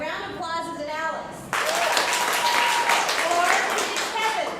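At a live improv comedy show, audience voting bursts out suddenly as a wave of applause with cheers and shouting voices, loud and close after a brief stretch of crowd chatter.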